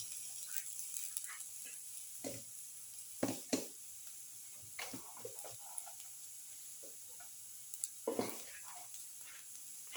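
Ginger goes into a pan of garlic coconut tomato dip, giving a quiet steady sizzle broken by several clattering stirs and scrapes of a utensil against the pan.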